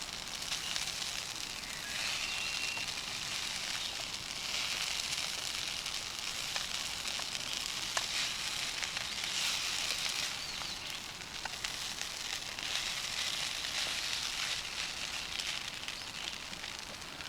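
Potatoes frying in a pan on a camp stove at a lake, a steady close sizzle and soft crackle running throughout with no talk.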